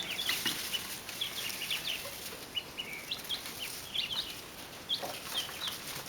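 Hens cluck and chirp intermittently at a moderate distance, soft scattered calls over a quiet background.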